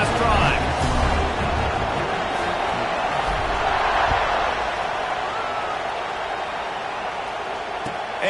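A college football stadium crowd at a Texas A&M game roars steadily just after a kickoff, a broad continuous wall of cheering and noise with a commentator talking over it.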